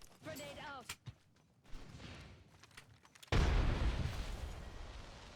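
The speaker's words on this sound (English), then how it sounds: "Grenade out." Thrown grenade detonating in a battle royale shooter: a sudden loud blast about two-thirds of the way in that decays into rumbling debris, preceded by quieter game sounds and a brief voice.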